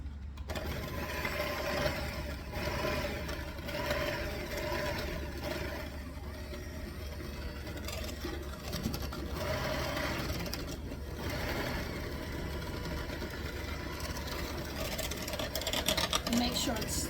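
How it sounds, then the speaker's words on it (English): Electric mixer whirring steadily as it blends a sugar mixture for bread pudding, a continuous motor drone with slight pitch wavering, heard close under intermittent talking. "So run your mixer until you get it mixed."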